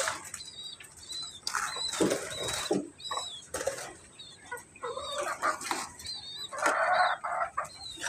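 Backyard chickens clucking and calling in a pen, with bursts of wing flapping and rustling throughout, close and fairly loud.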